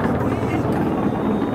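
A helicopter passes over Mana village in the Himalayas as a steady, fairly loud low rumble with no break.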